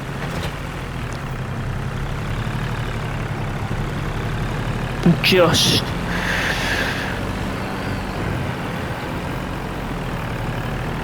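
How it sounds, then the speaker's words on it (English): Tractor engine in Farming Simulator 25 hauling a load: a steady, loud low diesel drone runs throughout, with a brief louder burst of mechanical noise near the middle and a single word spoken over it. "That's if this tractor can pull it."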